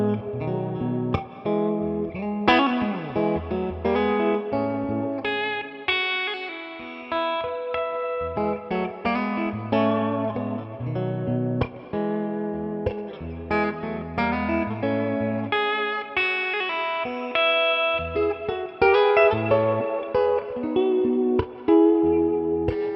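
An electric guitar on its bridge pickup plays chords and melodic lines with a bright, cutting tone, some effects and reverb, sounding alone without talk.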